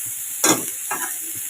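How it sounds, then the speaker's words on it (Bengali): Dry curry leaves drop into hot oil in a pan and crackle with a sudden burst of sizzling that quickly settles into a softer fry, with a faint second flare a moment later. "এটা আবার ভাজা ভাজা হোক"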